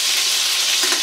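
Home-smoked, brine-salted pork jowl frying in a pan gives a loud, continuous sizzle and crackle, close up and without any voices.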